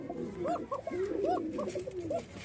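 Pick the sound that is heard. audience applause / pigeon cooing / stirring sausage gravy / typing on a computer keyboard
pigeon cooing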